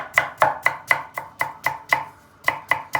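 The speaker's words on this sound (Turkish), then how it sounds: "havuçlarımızı doğrayarak başlıyoruz" A knife chopping carrots into long, thin julienne strips on a cutting board, about eleven sharp, close knocks in a quick, even rhythm with one short pause partway through, no talking.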